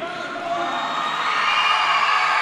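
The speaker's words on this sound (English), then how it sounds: "you'll hear the crowd ramp it up here" A high school volleyball gym crowd in San Isidro, Texas roars and cheers continuously during pregame starting lineup introductions, a loud sustained wash of voices and whoops swelling slightly toward the end.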